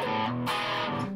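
Electric guitar with a humbucker pickup, from a two-sound Strat-style setup, played through distortion: a short, thick, sustained driven chord that shifts pitch midway, loud and close with no talking.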